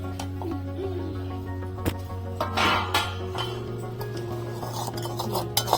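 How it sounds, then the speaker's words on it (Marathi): Spoon stirring kheer in a pot on a small clay stove, with faint intermittent scraping and clinks over a steady low hum, plus a few sharper knocks. "चमच्याने ढवळ करपेल"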